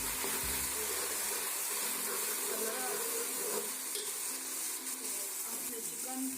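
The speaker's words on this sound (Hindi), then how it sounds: "ये हमारे प्याज गोल्डन हो चुके हैं। अब इसमें हम पानी ऐड कर रहे हैं थोड़ा सा" A little water poured over golden fried onions for chicken biryani, a close hiss and bubbling sizzle with faint watery splashing, moderately loud, with some background voice.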